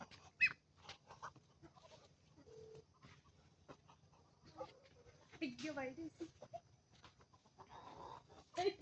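Several goats, including a pregnant one, bleat at intervals, with chickens clucking and voices talking nearby in a quiet farmyard.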